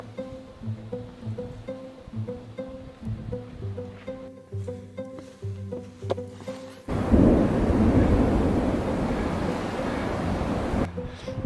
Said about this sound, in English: Continues to thunder.